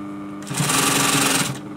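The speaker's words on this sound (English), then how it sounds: "Now we're going to sew the new piping that they wanted us to put on." Sewing machine stitching piping onto an upholstery cushion cover, running in one fast, steady burst for about a second, loud and close with no voices.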